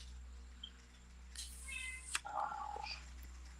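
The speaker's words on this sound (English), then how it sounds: "You heard her. Meow." A pet cat meows once or twice at a live psychic show, a faint, soft call at close range over a quiet room hum, with no talking over it.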